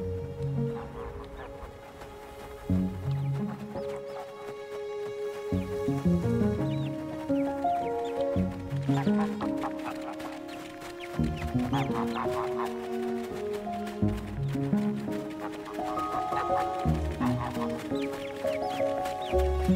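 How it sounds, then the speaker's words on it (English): Geese honk repeatedly over layered music in the video game Blanc, a busy run of quacking, clucking calls that keeps going throughout the stretch. "Goose, goose. Honk, honk."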